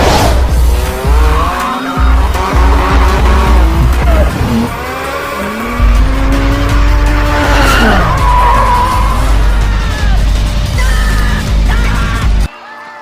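Cars drifting in a Tokyo street race, with loud sustained tire squeals and skidding that rise and fall over roaring engines, continuous and close throughout before a sudden cut at the end.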